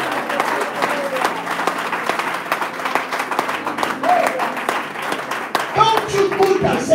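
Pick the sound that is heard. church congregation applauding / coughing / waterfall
church congregation applauding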